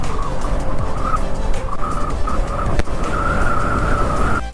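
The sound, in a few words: vehicle skidding, nearly flipping on Ladakh ride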